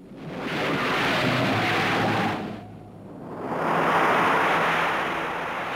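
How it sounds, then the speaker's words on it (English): Surging river water in spate, a broad continuous roar of billowing waves that swells, dips briefly, then rises again, loud and close with no voices. "How on earth will I get across these billowing waves?"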